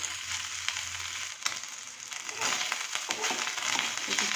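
Chicken pieces frying in a pan in their own juices give a bright, continuous sizzle and crackle, close up and moderately loud, with a brief lull midway before the hiss rises again, and no talking.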